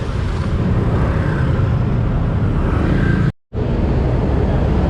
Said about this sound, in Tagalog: grabe rin traffic dito